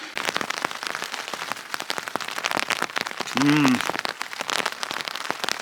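Rain falls steadily on a surface nearby, a dense patter of crackling drops, with a brief low hum or voice-like tone partway through.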